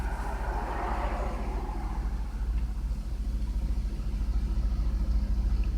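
A Lexus RX300 engine idles low and steady at close range, a loud pulsing rumble with a regular firing rhythm and a brief higher whir early on.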